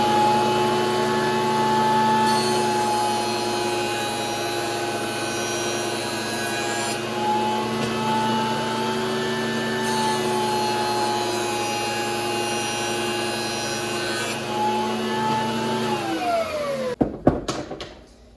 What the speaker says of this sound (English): Alexa, turn on the shop vacuum.